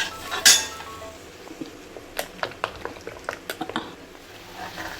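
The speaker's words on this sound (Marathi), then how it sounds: "पाण्याला उकळी आली." Salted turmeric water coming to a boil in a pot for besan, with a soft bubbling bed broken by a series of sharp metallic clinks and taps of utensils against the pot, no talking.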